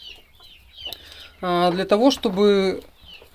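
A moulting hen clucks close up in a series of loud, drawn-out nasal calls, preceded by someone speaking briefly over a quiet background.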